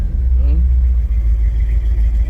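A 1962 Chevy engine with a custom exhaust runs steadily as heard from inside the cab, a loud, continuous low rumble with no pauses throughout.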